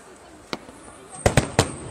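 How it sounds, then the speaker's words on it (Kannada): Fireworks going off outdoors at Dubai's Global Village, with a single sharp pop followed by a quick burst of three louder cracks over a faint crowd hubbub. "ಫೈರ್ ವರ್ಕ್ ಕೂಡ ಸ್ಟಾರ್ಟ್ ಆಯ್ತು ನೋಡಿ."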